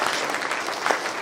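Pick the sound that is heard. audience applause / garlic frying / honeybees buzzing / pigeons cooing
audience applause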